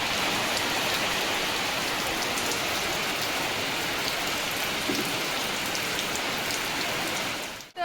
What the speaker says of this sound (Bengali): বাইরে কি পরিমাণে বৃষ্টি পড়ছে আর প্রচুর আওয়াজ হচ্ছে ঘরের মধ্যে